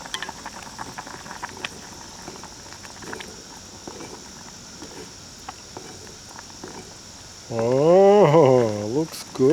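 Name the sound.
soup boiling in a pot while camping outdoors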